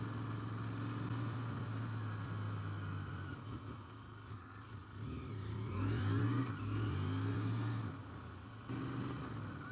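A car cruises slowly down a quiet residential street of houses, a low steady engine hum and tyre rumble heard from inside, swelling briefly midway as it speeds up, with no talk.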